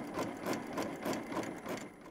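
A sewing machine runs a test line of stitching, its needle hammering in a fast, steady rhythm with regular surges, close and alone with no talking.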